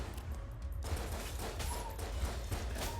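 Dense, continuous gunfire from the video game Enter the Gungeon, with rapid overlapping shots and bullet effects forming a steady, loud barrage for three seconds, and no voices.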